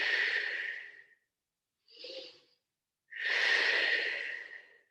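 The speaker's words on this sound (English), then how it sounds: "So it's an inhale." A person takes deep, audible breaths during a strength and mobility exercise. A long breath is followed by a short quiet one and then another long, full breath, all close and without talk.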